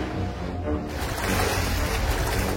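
Cartoon ocean waves wash around a ship at sea among icebergs, a steady, moderately loud rush of surf and water noise with no voices.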